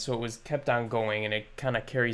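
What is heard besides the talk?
No everyday noise stands out behind the speech.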